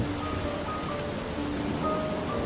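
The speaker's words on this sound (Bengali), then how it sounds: "বাইরে প্রবল বৃষ্টি শুরু হয়েছে।" Heavy rain pours in a cartoon ghost story, a dense continuous hiss of drops on surfaces holding an even loudness throughout the short stretch, with no voices.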